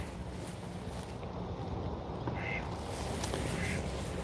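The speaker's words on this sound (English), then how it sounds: "Oh, I hear the duck." A duck quacks faintly twice in the evening near a boat, brief calls set apart by about a second and partly masked by steady wind and water noise.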